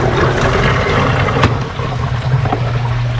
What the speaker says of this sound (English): That's why the skimmer is actually making a lot of noise.